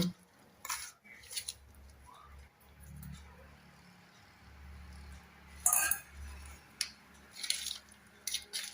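Hair dye powder is stirred in a bowl with a spoon, giving soft scraping and intermittent clinks and taps against the bowl, quiet and close, with a voice speaking at times.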